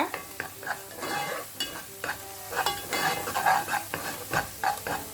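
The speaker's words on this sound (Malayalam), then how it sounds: "നല്ല ഗോൾഡൻ കളറാകുന്നത് വരെ മൂപ്പിച്ചെടുക്കാം" Chopped ginger and garlic frying in a pan until golden, with a spoon stirring and scraping through a steady sizzle; clinks of utensil against metal come at an uneven rhythm, close by, and no one speaks.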